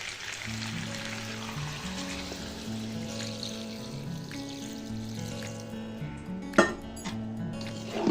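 Water is poured into a pot of free-range chicken curry with new potatoes and green chilies: a steady, close wash of liquid over soft background music, with a brief clink near the end.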